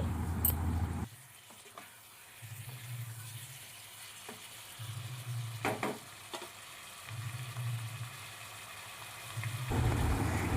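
Chicken cooking in a pan is stirred in bursts after the lid is lifted, giving a scraping, sizzling rhythm that comes and goes. A lid clatters at the start and near the end.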